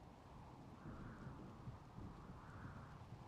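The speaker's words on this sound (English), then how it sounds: "Rain coming in, putting the fire out" Steady rain with a low rumble of thunder in the video game Rimworld, a faint continuous wash of falling water with swelling low rolls, no voices.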